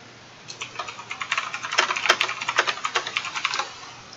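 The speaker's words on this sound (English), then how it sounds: "I just got a new mechanical keyboard." A new mechanical keyboard clatters with rapid, loud, sharp clicks in bursts of typing, building to dense fast strokes in the middle before thinning out, close to the microphone with no talking.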